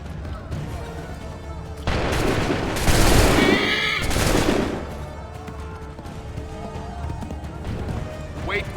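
A musket volley fired on command in the Assassin's Creed III video game: a loud, crackling burst of many shots followed by a second volley, with shouted orders, horse sounds and battle noise around it.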